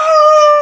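A person imitates a howl with a single sustained, steady vocal tone, loud and close, lasting under a second and ending abruptly.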